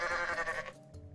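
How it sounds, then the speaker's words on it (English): A goat bleats in the video game Goat Simulator: one loud, wavering, nasal bleat held for most of a second, then trailing off into quieter game sounds. "So here he is, here's my goat."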